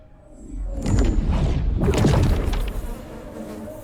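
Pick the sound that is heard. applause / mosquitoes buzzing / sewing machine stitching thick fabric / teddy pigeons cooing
mosquitoes buzzing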